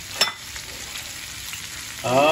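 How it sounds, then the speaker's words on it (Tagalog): Steady sizzling of liver frying in a covered pan, with a brief clatter near the start and a voice beginning right at the end. "Hanggang sa prito yung ating atay."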